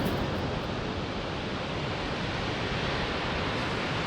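Fall Creek Falls, the tallest waterfall east of the Rocky Mountains, roars in a snowy landscape; a broad, steady rush of falling water with no breaks, loud and constant throughout.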